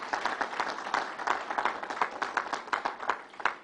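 A crowd applauding labor workers at an outdoor announcement at Belmont Park, with fairly close, distinct claps in an uneven rhythm over a few seconds.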